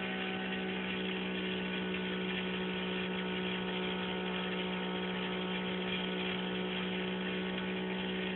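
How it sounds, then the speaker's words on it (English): Steady droning hum from an electric motor driving a 2012 Lykenth08 concept generator prototype, running continuously at an even pitch throughout, moderately quiet with no pauses. "Hear that? Well, considering that motor's driving that lot"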